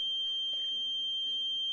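An electronic buzzer wired through a 3.3 kilo-ohm resistor sounds a steady, high, continuous electronic tone, loud and alone, with faint background noise beneath it.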